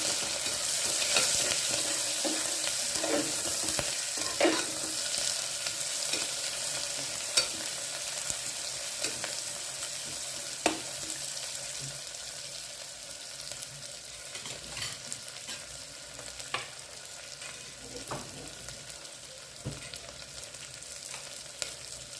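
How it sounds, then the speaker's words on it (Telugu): Chopped onions, green chillies and garlic fry in a pan with a steady, bright hiss and occasional crackles and light stirring taps, close and continuous without any talk. "ఉల్లిపాయ ముక్కలు పచ్చిమిరపకాయ ముక్కలు వెల్లుల్లిపాయ ముక్కలు కూడా వేసి వేయించుకుంటాం"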